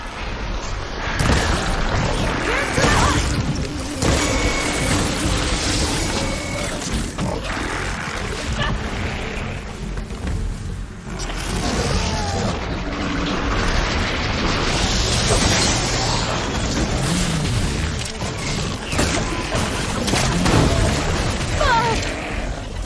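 Glowing crystals detonate in Horizon Forbidden West, giving deep booming blasts and bursts layered over continuous game music and effects, with characters talking at times.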